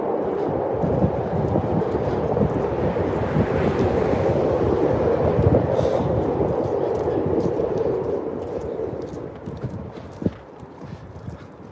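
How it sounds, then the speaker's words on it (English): Steady, loud wind buffets the microphone on a Chicago city street, a continuous broadband roar with gusts that swells and then eases slightly toward the end, with no talk. "We have a nice wind coming on here."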